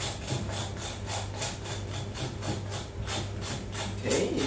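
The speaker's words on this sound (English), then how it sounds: "just going to scrape off very lightly with a spoon" A spoon scrapes lightly and rhythmically across crispy roast pork skin in a run of short, dry rasping strokes, close up and with no one talking.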